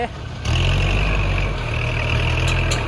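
A tractor engine runs steadily and loud, starting abruptly after a brief moment and holding a deep low rumble with a faint higher whine throughout, with no talk over it.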